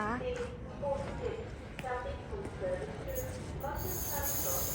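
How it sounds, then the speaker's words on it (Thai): A train pulls into a station near The O2 in London, bound for Charing Cross, with a low rumble and a rising high hiss near the end, while someone talks over it throughout. "รถไฟก็มาแล้วค่ะเราจะขึ้น สายนี้ไปชาริงครอสนะค"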